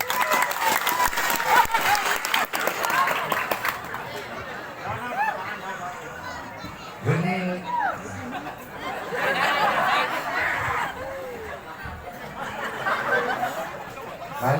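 An audience at a Balinese comedy show bursts into applause, a dense clatter of clapping that swells and fades in waves amid laughter and crowd chatter, with voices talking over it.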